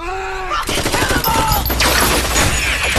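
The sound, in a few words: gunfire in a film shootout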